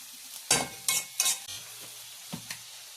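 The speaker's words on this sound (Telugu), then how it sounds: "టమాటా వేసుకుంటున్నానండి" Tomatoes sizzle in a pan of drumstick curry while a spoon stirs them, giving three sharp scraping clatters in quick succession, then a softer pair of stirs over a low, steady frying hiss.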